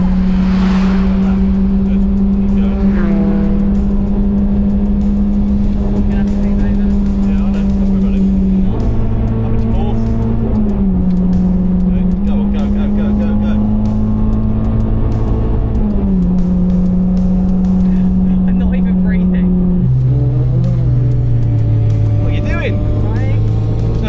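Race car engine droning loudly on a track from inside the cockpit, the pitch stepping between gears as it accelerates and shifts, with a continuous roar and wind.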